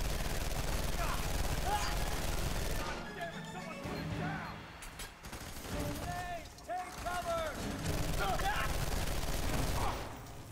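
Bursts of gunfire from weapons in the F.E.A.R. 3 shooter game, loud and dense at the start and end with quieter clattering between, while a voice talks over the action.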